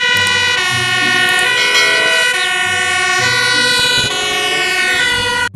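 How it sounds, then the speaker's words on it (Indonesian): A toy fire truck sounds its electronic siren, a loud, steady wailing tone with bright harmonics that continues almost unbroken from start to finish, heard alone with no talk. "yang ini mobil pemadam kebakaran"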